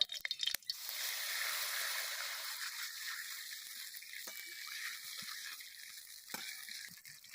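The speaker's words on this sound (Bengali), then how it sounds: "এবার পান মৌরি দিয়ে দেবো এবার জল দিয়ে দেব" Water poured into a hot pan of orange chutney with fennel: a sharp burst, then a strong steady sizzling hiss that slowly fades while faint stirring clicks continue.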